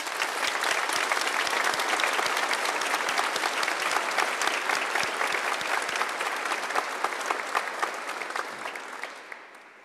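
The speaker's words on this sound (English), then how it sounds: "So please join me in a round of applause to thank all those who have helped" A large graduation ceremony audience at the University of Lincoln bursts into sustained, dense clapping, loud and even for most of the stretch before gradually thinning and fading out at the end.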